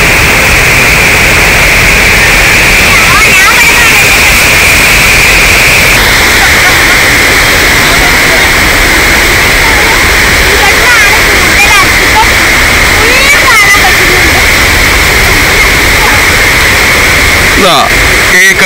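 River water rushes near Kettungal waterfall at Kalikavu, a loud, constant roar with a sloshing texture that fills the whole stretch without pause.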